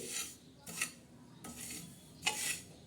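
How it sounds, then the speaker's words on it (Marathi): A spoon scrapes and stirs niger seeds dry-roasting on a griddle over low heat, giving a few quiet rasping strokes spaced about a second apart. "तव्यावर मंद आचरणावर भाजून घेणार आहोत ही पा आपण चांगली अशी हलवत राहायचे"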